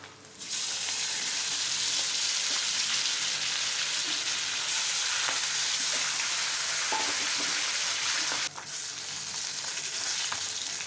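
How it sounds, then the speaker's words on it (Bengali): Steady, loud sizzling of fish frying in hot soybean oil in a wok, a continuous crackling hiss with a brief shift near the end. "কড়াইতে দিয়ে দিলাম সয়াবিন তেল এখন মাছগুলো ভেজে নেব"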